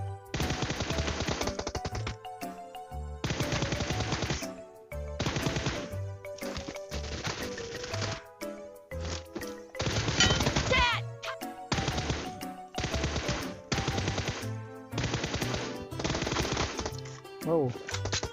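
Rapid automatic gunfire from a PUBG Mobile team deathmatch, loud and dense, bursts of repeated shots in several volleys with brief pauses and game sound effects throughout.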